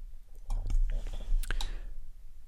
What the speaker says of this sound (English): So I'm just going to click to place that down.